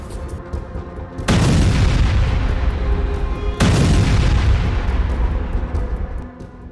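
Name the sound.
Hezbollah missile and bomb attacks on Israel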